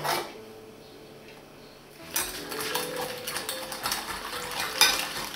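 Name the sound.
stirring yeast, sugar and flour into warm milk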